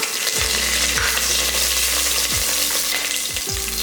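Steady, loud sizzling of curry leaves frying in hot oil, with a few clinks of a spoon stirring the pan, while cooking mutton kulambu.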